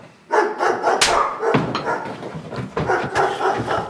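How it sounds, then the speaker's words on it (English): A dog barks repeatedly at close range, a run of loud, sharp barks with short yips mixed in, heard alone with no talk over it. "I know you went and got yourself another dog"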